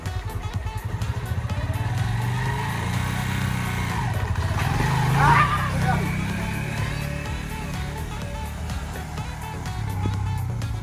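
A motorcycle engine chugs nearby while a beginner rider learns in Honduras, idling steadily and then revving up briefly in the middle before settling back. Someone talks over the engine throughout.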